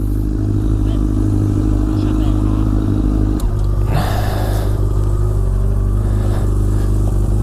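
Honda Fireblade sport motorcycle left idling during a jump-start, a steady loud engine drone with strong low harmonics throughout, with a brief clattering burst midway and people talking nearby.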